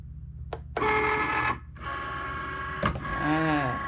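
Cricut cutting machine loading a mat, with short mechanical clicks followed by a steady whirring motor drive, a sharp knock near the end and a brief falling tone.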